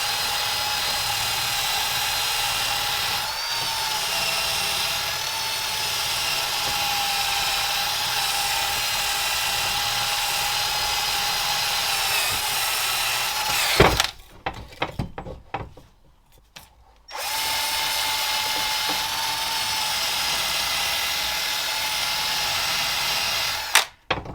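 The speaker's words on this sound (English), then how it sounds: "Try a wire wheel on there." A wire wheel spun by a power tool scrubs a Honda TRX 250 quad bike drive shaft, a steady loud whirring grind that cuts out midway into clattering handling noises before the grinding resumes.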